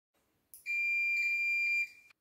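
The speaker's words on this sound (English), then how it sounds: "You must select the buzzer on your multimeter." A multimeter continuity buzzer testing a Mercedes KE-Jetronic throttle position sensor: a single sustained high-pitched electronic buzz, loud and steady for over a second before cutting off, with near silence around it.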